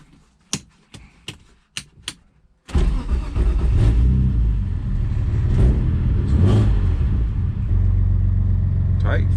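A BMW E36 sedan, a drift build with a welded differential, gives a few sharp clicks and knocks before its engine fires up loudly and settles into a strong, steady running rumble, close by.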